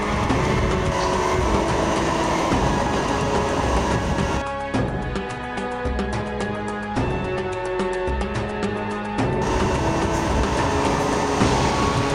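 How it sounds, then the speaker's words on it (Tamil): An MRT train in motion, a loud continuous rumble with rhythmic clickety-clack of wheels over rail joints, steady throughout with no voices. "வந்து ட்ரெயினில் தான் வரேன்"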